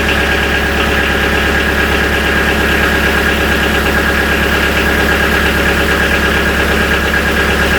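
A Kubota B3150 tractor's diesel engine idles steadily and loudly nearby, a constant rumbling drone with a rhythmic knocking pulse and no other sounds.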